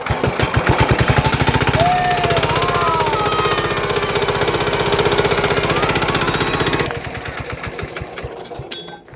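A small engine driving an irrigation water pump for a rice paddy starts up and runs with a loud, fast, steady putter close by, then drops to a rougher, slower chugging near the end.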